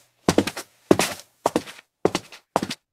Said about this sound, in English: Here's like footsteps on a wooden floor,